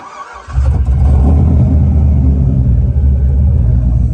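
A cammed 2006 GMC Sierra truck engine cranks briefly and catches, then settles into a loud, deep, lumpy idle rumble close by.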